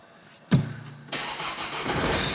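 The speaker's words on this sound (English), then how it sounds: "Start the car" A modified Renault car, fitted with a Pioneer system, starts up close by: a sharp crank and catch, a brief pause, then the engine settling into a steady idle with a faint high electronic tone.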